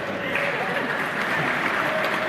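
A university lecture audience at the University of Redlands bursts into cheering and applause, a loud, sustained roar of clapping with shouting voices mixed in, filling the hall throughout.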